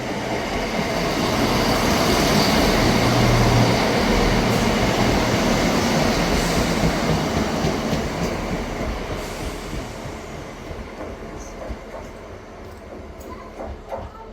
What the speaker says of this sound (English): Passing through now is the 1448 ScotRail service from Dundee to Edinburgh Waverley